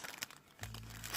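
Plastic bag holding nail foils crinkling close by, quiet rustle with a few sharper crackles in a brief burst.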